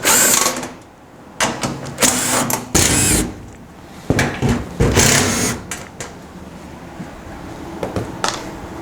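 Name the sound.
removing screws from back panel of front-load washing machine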